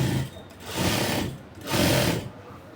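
A sewing machine stitching palazzo pants runs in two close, steady bursts of rapid mechanical whirring, separated by a short pause, with no talking.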